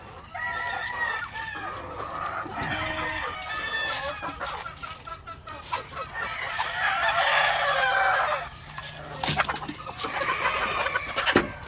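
Several chickens cluck and murmur continuously nearby, with occasional louder squawks and a few sharp knocks near the end.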